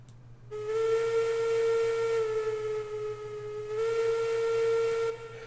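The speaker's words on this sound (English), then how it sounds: "I think that whistle sounds the same no matter where you are" In-game steam locomotive whistle from Railroads Online, built on Unreal Engine: two long, loud, steady hooting blasts with a brief dip between them, over a faint background hum.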